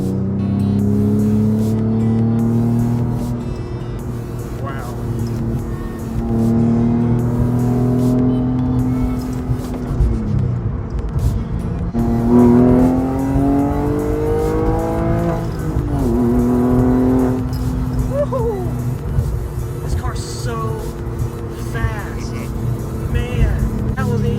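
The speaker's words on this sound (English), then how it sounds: "I love this exhaust note so much." A 2002 Porsche 911 Carrera's exhaust note rumbles loudly and steadily in third gear, rising and falling with revs and dipping around gear shifts, continuous throughout with no talking.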